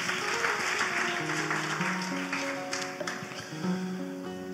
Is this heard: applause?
yes